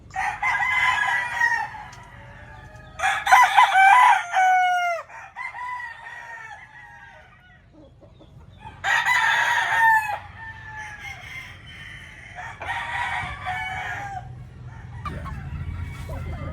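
A Boston Black gamefowl rooster crows several times close by, loud hoarse calls separated by pauses, with softer clucking between them and no one talking.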